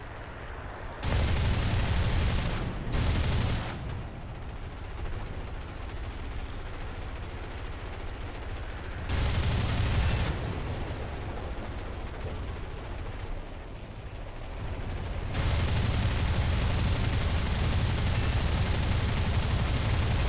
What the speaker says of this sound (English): Everybody shooting at everybody.